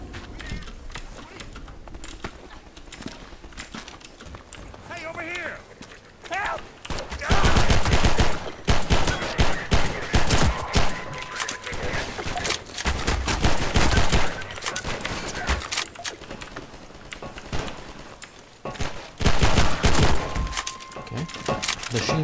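Machine gun fire in the video game Half-Life 2, heard as dense rapid bursts of loud gunshots that crowd the second half of the sequence, following a quieter stretch of game ambience with faint sounds.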